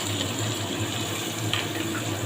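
Water-thinned spice paste of ground coriander, cumin, chili, Kashmiri chili, turmeric and salt poured over chicken, a short, even, close wash of liquid with a low steady hum beneath.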